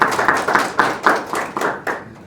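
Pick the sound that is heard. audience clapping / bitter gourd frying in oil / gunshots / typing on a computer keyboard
audience clapping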